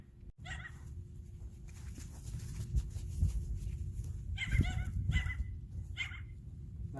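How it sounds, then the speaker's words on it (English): A neighbor's dog barks outdoors at a rural building site in several short bursts, moderately distant and over a low rumbling background. "It's a neighbor's dog. Keeps barking."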